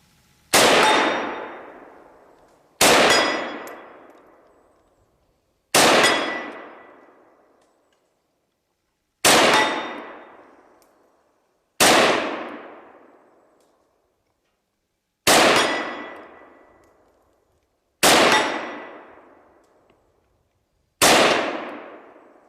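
Eight sharp SKS Russian-model rifle shots crack at long range, each followed by a ringing decay as it strikes steel targets, spaced a few seconds apart with silence between.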